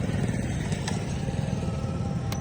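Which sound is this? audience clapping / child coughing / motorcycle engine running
motorcycle engine running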